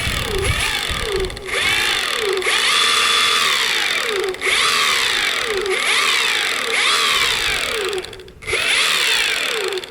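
An Evolve Carbon GT electric skateboard's faulty drive gear whines and grinds loudly, with repeated rising-and-falling mechanical sweeps and brief dips, close and continuous.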